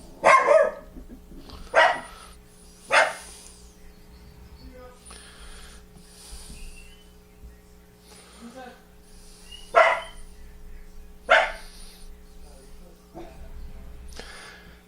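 A dog barks in short bursts, several sharp barks spaced across a room where a steady electrical hum runs underneath, with people talking nearby.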